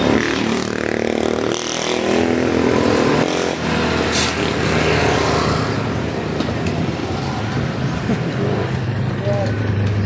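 Motorcycle without working brakes running close by on a road, its engine loud and rising with revving at the start, then settling into a steady drone under traffic noise.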